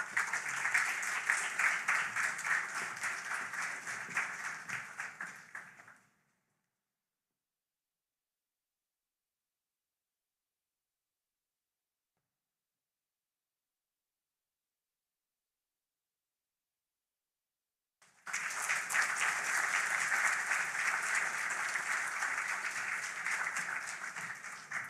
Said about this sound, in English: I think that one requires a more hearty applaud.